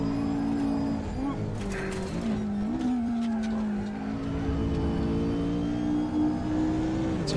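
A McLaren 570S engine in the RaceRoom racing game drones steadily with shifting pitch, rising and dipping through gear changes under a faint tire whine. Someone speaks quietly over it.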